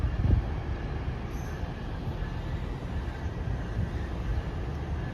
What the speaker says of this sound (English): here we got the Up Express train arriving at Mount Dennis Go.